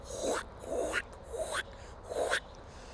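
A voice imitates the call of a male Muscovy duck: four short, raspy, breathy huffs in a steady rhythm, like throat-clearing hisses, close and alone.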